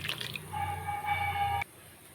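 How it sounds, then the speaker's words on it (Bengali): Thin lentil water poured from a vessel into a simmering pumpkin and potato vegetable curry, a soft steady trickling stream for about a second and a half that stops abruptly, close by with no talk. "এখন এই ডালের জলটাও দিয়ে দেবো"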